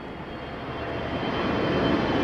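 A passenger jet, likely a Qatar airliner, comes in to land at London Heathrow in stormy, windy weather, its engines a broad, steady roar that swells slightly louder as it nears.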